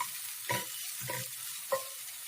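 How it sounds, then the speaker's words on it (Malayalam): Chopped onion and green chili sauté in a pan for a Kerala-style dish. Three distinct spatula strokes scrape through a faint, steady sizzle. "പച്ചമുളക്, സവോള പൊടിയായി അരിഞ്ഞത് ചേർത്ത് കൊടുത്തിട്ടുണ്ട്. ഇത് നല്ലതുപോലെ ഒന്ന് വഴറ്റിയെടുത്ത് തരാം."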